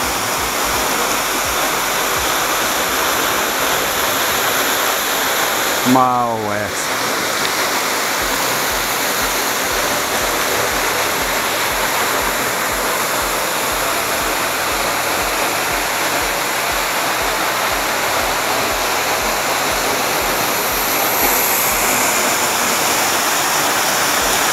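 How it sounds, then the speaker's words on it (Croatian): Skakavac waterfall at Kotor Varoš roars steadily and loudly from close behind the falling water, a dense, unbroken rush with a brief spoken remark partway through. "Evo, sad se nalazim iza vodopada."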